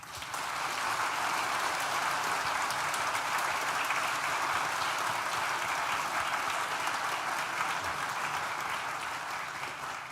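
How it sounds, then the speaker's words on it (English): A graduation ceremony audience applauds at a university event, a dense, steady wash of many hands clapping at once that holds evenly for about ten seconds before easing off slightly at the end. "please join me in thanking them with a well-deserved round of applause"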